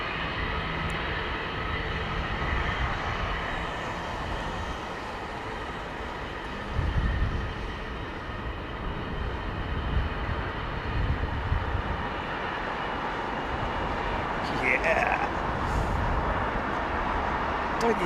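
Pratt & Whitney jet engines roar steadily at Heathrow, a broad, constant rumble and whine that swells slightly midway and again near the end, with voices talking underneath.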